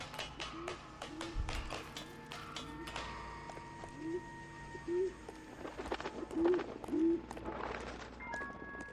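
Pigeons coo softly at a pigeon loft in the video game L.A. Noire, a handful of low rolling coos in a steady repeating rhythm under scattered taps and ambient game noise.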